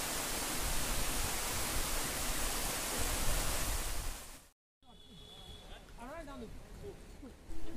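Patna Waterfall near Rishikesh, set among dense forest, gives a loud, steady rushing wash of water, then a brief cut leads to quieter running water with someone talking over it.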